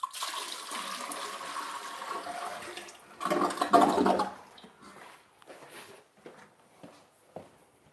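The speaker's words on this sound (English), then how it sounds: "This bucket of water I'm going to pour out in the toilet." A bucket of water is poured out into a toilet, giving a loud, rushing splash for about a second that stands out from quieter background water and handling noise.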